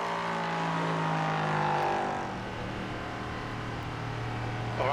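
Race car engine in the iRacing sim at Daytona, a steady loud drone that swells and then settles into a lower, even pitch as it continues.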